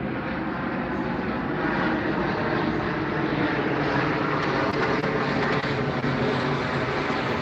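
Airplanes pass over a house outdoors, producing a steady, broad roar of jet engines that holds loud and constant throughout with no speech.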